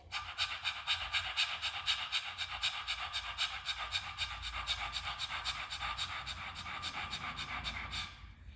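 A person mimics a dog's panting with the tongue out: rapid, strong, rhythmic breaths, close and steady for about eight seconds before stopping.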